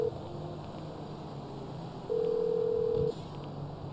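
A phone in GTA V dials through to voicemail: a steady low hum, then a single long electronic tone lasting about a second, followed by a brief click.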